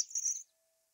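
A pet bird named Cheep in The Book of Unwritten Tales 2 gives one short, high, bright chirp lasting under half a second, followed by near silence.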